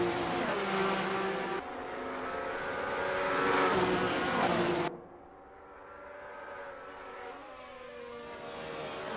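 Formula Alfa race cars in a league race, engines howling loud and steady up close, pitch shifting as they accelerate and brake before one passes and the sound drops to a fainter, farther drone.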